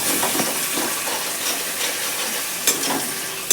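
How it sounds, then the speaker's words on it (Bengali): Steady close sizzling of spice paste frying in a pan as hot water is poured in, with a loud hiss throughout, faint scraping, and sharper bursts near the end. "এবার গরম জলটা ঢেলে দেবো"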